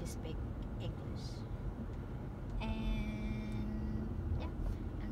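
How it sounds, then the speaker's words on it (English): A car driving along a local road toward a nearby Walmart gives a steady low cabin rumble, with a brief tonal whine rising partway through, while someone talks over it. "I'm driving to Walmart, close to my neighborhood."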